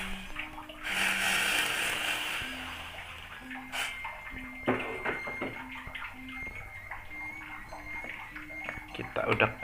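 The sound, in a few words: pouring hot water into otak-otak batter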